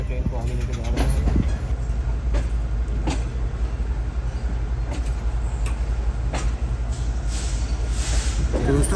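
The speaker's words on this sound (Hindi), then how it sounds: "इसी वजह से ड्राइवर साहब जो है काफ़ी एहतियात से ट्रेन को आगे लेके जा रहे हैं।" A passenger express train creeps cautiously over sharp track points, with a steady low rumble, rhythmic clacks and metallic squeals close by, while a voice talks over it.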